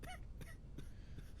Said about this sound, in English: I don't like the cough, though.